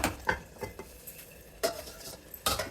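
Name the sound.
frying eggplant pieces in oil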